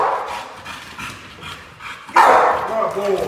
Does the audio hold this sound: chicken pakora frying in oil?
no